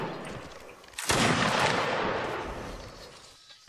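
A massed musket volley in the Napoleonic Wars mod of Mount & Blade: Warband bursts out as one loud, dense crack of many shots, then a long rolling rumble that fades over several seconds.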